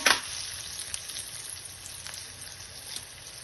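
Dried red chillies fry in hot oil in a pan for Andhra vankaya pachi pulusu, giving a steady soft sizzle with a sharp crackle at the start and faint pops scattered through, close and alone.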